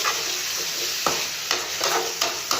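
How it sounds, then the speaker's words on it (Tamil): Onions sautéing in a hot pan, a steady bright sizzle with a few quick scraping stirs of the spoon, close by, no voices. "வெங்காயம் போட்டு நல்லா இப்படி வதக்கிக்கலாம்."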